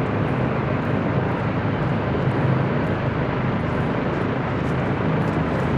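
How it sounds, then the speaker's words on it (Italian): A helicopter approaches in Call of Duty Modern Warfare II, its engine and rotor producing a loud, steady, dense roar that fills the scene without pause and without any talk. "Sentito? Arriva un elicottero."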